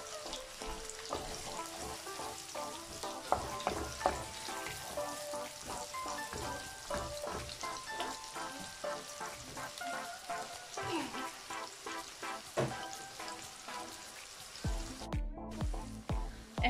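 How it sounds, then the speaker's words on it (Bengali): Chopped onions fry in a hot pan with a steady, close sizzle and crackle throughout, brief stirring scrapes breaking through now and then. "আমি আমার কাটা পেঁয়াজগুলো দিয়ে দিচ্ছি এখানে, দিয়ে তারপর আমি পেঁয়াজটা ভেজে নেব।"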